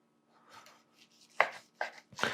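A knife slices through a sesame-encrusted tuna steak on a board, with soft scraping followed by three distinct, close cuts, each sharper than the last, with no talk.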